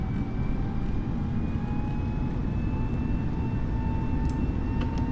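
Airbus A320neo engines spooling up for a go-around in Microsoft Flight Simulator 2020, a steady loud broadband jet roar with faint whining tones that holds constant throughout, no voices.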